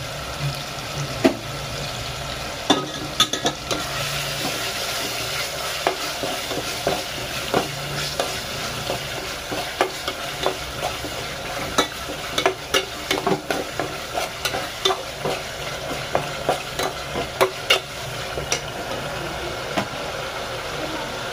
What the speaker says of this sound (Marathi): नंतर आपण टाकणार आहे टमाटर आणि मीठ टाकणार आहे टमाटर शिजण्यासाठी